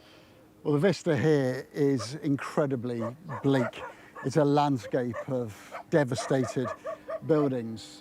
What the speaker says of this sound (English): These wild dogs barking and occasional bouts of gunfire